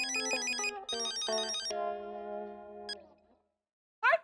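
A telephone ringtone plays as a bright electronic melody for about three seconds and then trails off, followed by a brief burst of a voice at the end.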